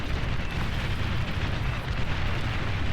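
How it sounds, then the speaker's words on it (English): Continuous deep, rumbling explosions from a bomber run in the real-time strategy game Beyond All Reason, a dense, loud barrage with no pauses. "green coming in with a bombing run"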